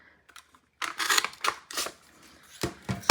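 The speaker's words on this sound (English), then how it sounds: "going to use the punch that Creative Memories had" A Creative Memories paper punch cuts a tag from paper, giving a few sharp crunching and clicking bursts after quiet handling noises, close and fairly soft.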